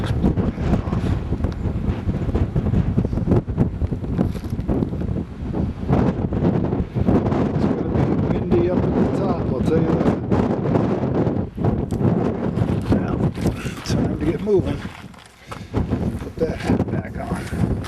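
Strong wind buffets the microphone on a mountain bike trail in Topanga Canyon, a loud continuous roar with gusts, while someone talks over it.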